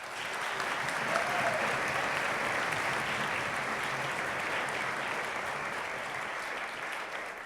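An audience at a county orchestra event gives sustained applause, dense even clapping from a crowd throughout, with a few voices faintly underneath.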